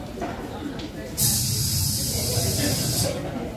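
A man imitates a pressure cooker whistle with his voice, a loud, sustained hissing blast lasting about two seconds that stands out against a background of chatter.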